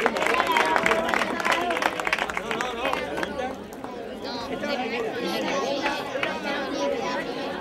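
Crowd at a San Silvestre street-race trophy ceremony in Rota applauds the junior category winners, dense steady clapping and chatter filling the scene while an announcer speaks over it.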